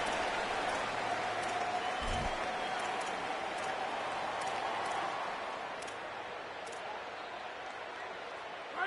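Stadium crowd in a college football video game, a broad sustained roar of cheering and applause that holds strongly, then eases slightly toward the end, with talk mixed in.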